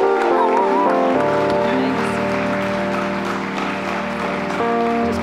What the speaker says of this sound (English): give her a great, rapturous round of applause